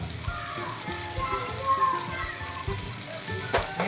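Onion and tomato sautéing in a pan with ginger garlic paste, a soft continuous sizzle under a few irregular spatula knocks and scrapes, with no talking.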